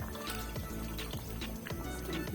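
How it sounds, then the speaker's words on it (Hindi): New-crop basmati rice is poured into a pot for black chana pulao, making a continuous wet, liquid pouring and sizzling sound with small irregular pops, close and steady throughout. "अब मैं बिस्मिल्लाहिर्रहमानिर्रहीम चावल इसमें शामिल करूंगी"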